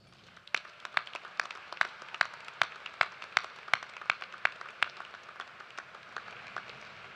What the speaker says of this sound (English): please join me in applause to acknowledge the scholastic achievement of all of our